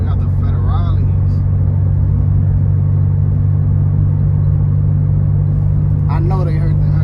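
Loud 8th Gen car driving through town, a heavy, constant engine drone and low exhaust rumble filling the whole stretch, with brief voices breaking in near the start and end.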